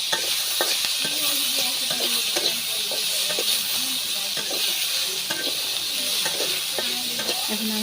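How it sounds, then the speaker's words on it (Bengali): Onion, garlic and green chilies fry in a pan with a steady, loud hiss and sizzle, broken by scraping stir strokes throughout; no talking. "এখন পেঁয়াজ রসুন কাঁচামরিচ"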